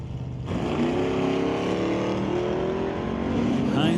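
Race cars launching at a drag race, including an Oldsmobile Cutlass running 113 mph, a loud close engine roar that swells after a short lower rumble and holds steady, with a rising whine near the end.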